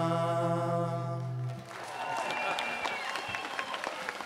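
A concert audience on a band's tour breaks into applause as a held musical chord ends, a dense burst of clapping that takes over at once and carries on steadily to the end.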